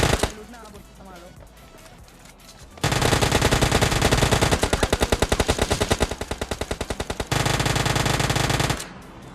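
Uzi and Vector submachine guns fire in a mobile shooter game, long dense bursts of rapid gunfire with brief gaps, loud and close, with a voice talking beneath.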